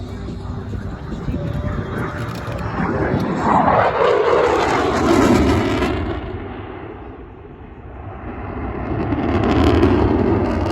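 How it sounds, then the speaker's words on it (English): Lockheed F-35 fighter jet at an airshow sliding through a tactical turn and climbing out, a loud roaring engine sweep that swells, dips briefly and builds again as the jet passes close. "slide the F-35 through a turn and then powerful climb out of the maneuver, closing in from your right"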